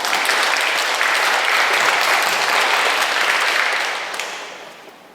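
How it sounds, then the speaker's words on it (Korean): Loud, sustained applause from a church congregation after a choir performance, steady clapping for about four seconds before it fades away quickly. "힘찬 박수를 보내주시기 바랍니다"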